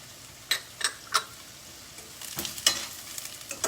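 Onions, whole cashews and poppy seeds sauté in a hot pan with a steady sizzle, broken by a few sharp pops and clicks, fairly close and moderately loud, with no voices.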